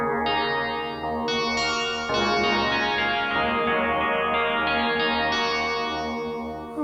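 A Korg Multi wavetable synth sends sustained, shifting tones through Erica Synths Echolocator delay and Nightverb reverb, giving a washy ambient texture with chorus-like movement and trailing echoes, steady and fairly loud, with no talking.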